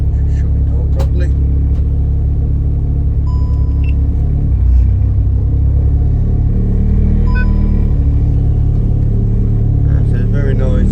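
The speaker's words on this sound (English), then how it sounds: "So it's very noisy." A race car's engine rumbles loudly from inside the cabin while it drives on a public road, a constant heavy drone lasting throughout with brief rattles and shifts in pitch.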